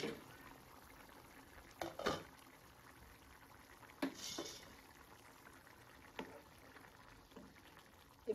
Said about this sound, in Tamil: இப்போ பார்த்தீங்கன்னா நல்லா குழம்பு கொதிச்சிருச்சு.